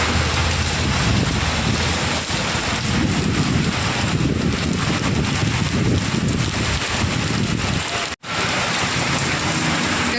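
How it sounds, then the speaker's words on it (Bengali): Heavy rain pours steadily with gusty wind buffeting the microphone, a dense continuous roar that briefly cuts out near the end. "কত জোরে জোরে বৃষ্টি হচ্ছে"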